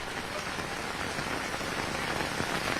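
Heavy rain pouring in Mumbai, a dense, steady hiss of drops striking surfaces throughout, with no other sounds.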